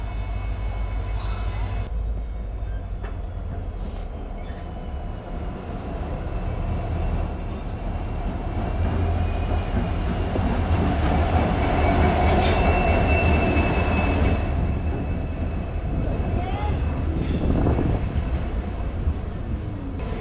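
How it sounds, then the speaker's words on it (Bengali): Bamanhat InterCity Express pulling into a station platform at New Mal Junction, with a WDP-4 diesel locomotive, a loud steady rumble of the train with wheel squeal and rolling coach noise throughout. "এ দেখো সামনে কিন্তু আসছে বামুনহাট ইন্টারসিটি এক্সপ্রেস।"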